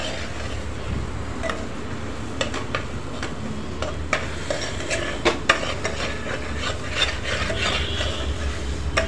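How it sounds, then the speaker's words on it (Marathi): Spicy masala sautéing in oil in a pan for chicken curry, a steady close sizzle broken by scraping stir strokes and light clinks of a spatula against the pan, with no talking. "मसाला आपला छान परतत आला आहे, त्याला तेल सुटायला लागलं आहे."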